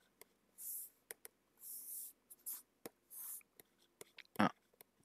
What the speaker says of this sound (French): Donc j'écris première question.